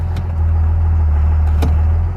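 A truck engine runs steadily in park while its 24-valve transmission is cycled, a loud low idling rumble that holds constant throughout with a couple of faint brief clicks over it, and no talking.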